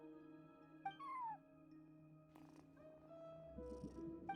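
A cat in the video game Genshin Impact, sitting at a front desk, gives a drawn-out meow over a steady soft purr, with game music tones sustained underneath.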